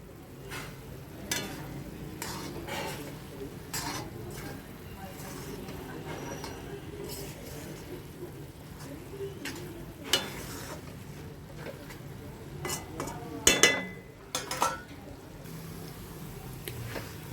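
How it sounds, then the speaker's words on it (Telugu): Grated coconut cooking in bubbling sugar syrup for coconut laddoos, stirred with a spoon, giving soft wet squelching and scraping with a few louder knocks against the vessel near the end, under a quiet voice. "ఉడుకుతుందండి పాకంలో కొబ్బరి."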